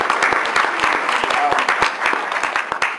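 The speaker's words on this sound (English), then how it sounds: "And I don't think we got a round of applause for the Cape people," Conference attendees giving a round of applause at a community health conference, loud close clapping with distinct individual claps in a lively, uneven rhythm throughout.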